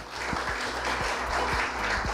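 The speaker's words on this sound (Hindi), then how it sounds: "जोरदार तालियों के साथ" Applause from an audience at a farmers' forum on sugarcane farming, moderately loud and continuous clapping with a steady low hum running beneath it throughout.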